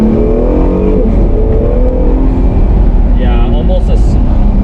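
A 2019 Acura NSX twin-turbo mid-engine hybrid supercar accelerates hard with a loud, close engine drone whose pitch climbs steadily, turbos spooling as it revs, while a person talks over it.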